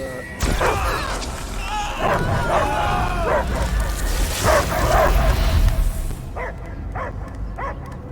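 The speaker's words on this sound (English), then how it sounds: "I hear only barking" A dog barking in the Marvel's Guardians of the Galaxy video game, several loud yips and bow-wows over a dense, booming game soundtrack, with voices talking over them.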